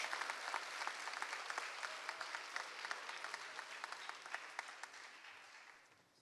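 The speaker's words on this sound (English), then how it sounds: "another round of congratulatory applause for our scholarship recipients tonight" A crowd at a scholarship ceremony applauds steadily for several seconds, the clapping dense and even before tapering off toward the end.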